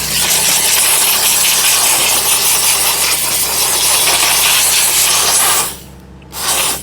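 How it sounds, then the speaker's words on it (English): An Aqua Pro steamer detailing a Toyota Corolla gives a loud, steady broadband hiss that runs almost without a break, cuts out briefly near the end and then returns. "We're using the Aqua Pro steamer."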